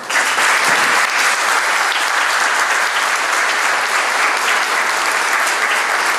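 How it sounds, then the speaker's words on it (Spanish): Audience at a book presentation for the Llano family breaks into loud, sustained applause, dense and even throughout with no speech. "Le voy a pedir para todos nosotros un gran aplauso"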